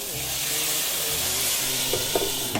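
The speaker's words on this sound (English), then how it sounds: "in order to make the cheese melt, I'm going to add a little water" A loud steady hiss of steam as water hits a hot pan under melting burger cheese, sizzling continuously with a couple of faint clinks near the end.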